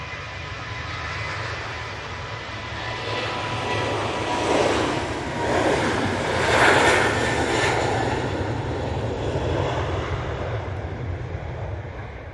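A departing airliner bound for Pisa roars on takeoff at Manchester Airport, a broad, loud jet rumble that swells and peaks midway before holding steady, heard alone from a moderate distance.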